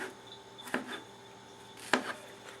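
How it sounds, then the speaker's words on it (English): A knife cuts strawberries into quarters on a board: two distinct soft chopping taps about a second apart, quiet and close, with faint room hum between them. "So I'm going to cut each strawberry into 4 pieces"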